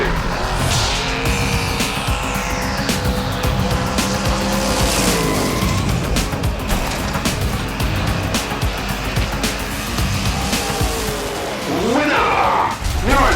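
Hot Wheels diecast cars, a '32 Ford and a Mod Rod, race down a track in a club league event. Wheels rumble and roar continuously for the whole stretch, with rising whines and swishes as the cars speed past.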